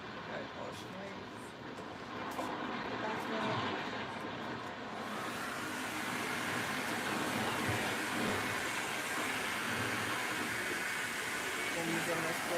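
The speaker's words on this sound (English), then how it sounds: "I'm using this blow dryer right here." A handheld blow dryer runs during a braiding session, a steady broadband whoosh that swells after a few seconds and holds constant, with ocean-wave sounds and faint talk in the background.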